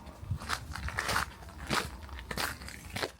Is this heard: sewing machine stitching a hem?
no